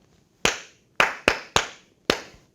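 Five sharp hand claps ring out close and loud in a short syncopated rhythm, each crack decaying quickly into a quiet room, with no voices.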